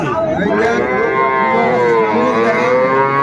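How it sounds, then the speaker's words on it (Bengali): A young Sahiwal bull calf moos loudly and close by in one long, continuous, strained call with no other sounds around it, at a cattle market. "এ পাশে একটা ষাঁড় বাচ্চা সাইওয়াল বাচ্চা"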